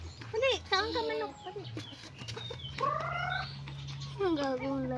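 Chickens cluck and squawk repeatedly in short bursts, with a steady low hum running underneath throughout.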